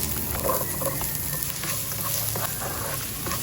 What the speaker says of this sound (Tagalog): Saute the onions until it turns translucent.